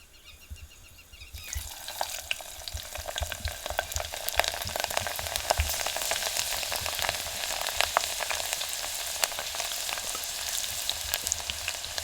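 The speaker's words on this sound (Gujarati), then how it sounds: "તેલ ગરમ થઈ ગયું છે આ લસણના કટકા નાખી દઈ" Garlic pieces are dropped into hot oil in a pan and start to fry, the quiet background suddenly turning into a loud, steady crackling sizzle that continues without a break, and no voice is heard.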